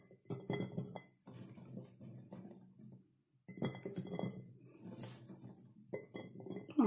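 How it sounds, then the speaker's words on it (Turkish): Dried chickpeas drop three at a time into glass jars for pickling, making quiet, close clinks in short clusters with brief pauses between them. "Şöyle üçer tane nohut atıyorum içine kavanozlarıma."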